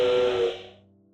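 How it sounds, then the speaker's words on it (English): A loud, steady steam-style train whistle in a video game sounds for about half a second, then fades away into a low rumbling hum. "My body trembled at the loud whistle."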